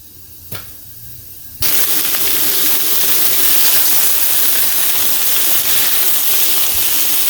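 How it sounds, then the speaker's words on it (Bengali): Boiled potato and cauliflower cubes dropped into hot oil with cumin, breaking into a loud, steady, close sizzle after a quiet start with a single clatter. "এখানে আলু ফুলকপিটা আমি ভেজে নিচ্ছি"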